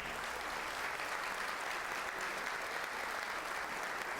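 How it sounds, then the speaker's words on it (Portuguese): An audience at a church council opening applauds for Bishop Richard, giving steady, dense clapping from many hands that holds at an even level throughout. "Nós temos que aplaudir o senhor, vai."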